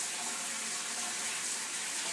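Tap water pours steadily over prickly pears in a strainer, a constant close hissing rush that fills the moment with no pauses.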